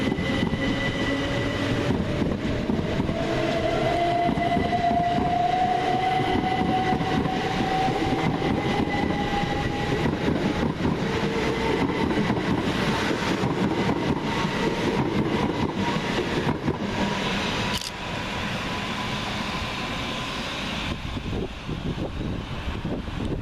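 A Class 377 electric passenger train speeds through Hassocks railway station with a rumbling roar of wheels and a rising motor whine, loud and sustained, easing off toward the end.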